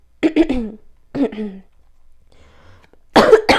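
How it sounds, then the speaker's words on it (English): A few short, sharp coughs, two quick ones and then a single one, followed by a pause and another burst of coughing. "I'm like getting a little bit of a cough as I say that."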